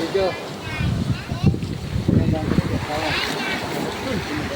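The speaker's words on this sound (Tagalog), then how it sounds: "Sa taas ng tubig at malakas na salpok ng alon, rumaragasa ito papasok." Rough seawater from a high tide splashes and rushes in waves into a residential area, with wind buffeting the microphone, while a person talks over the churning surge.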